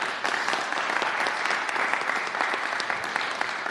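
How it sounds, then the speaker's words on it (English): Sustained applause from an audience at a political gathering with pastors and assembly members, a dense steady wash of clapping held at even loudness throughout, with no voices over it. "Let's give them a round of applause."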